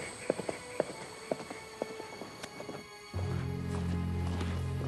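A horse's hooves clop in an uneven walking rhythm, close and distinct against quiet night surroundings, before a steady low drone takes over.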